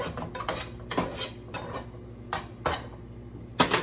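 A pancake cooking in a buttered pan gives clinks and scrapes of a utensil against metal, several sharp taps spread irregularly over a few seconds, close and moderately loud with a faint sizzle beneath.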